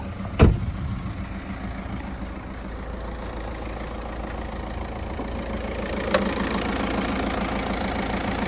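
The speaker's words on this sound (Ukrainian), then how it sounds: "Двигун працює рівно, обороти не плавають." A Volkswagen Touran car engine idles steadily with an even, low hum and no change in revs, plus a couple of short clicks.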